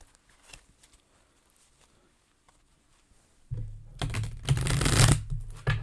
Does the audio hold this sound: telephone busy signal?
no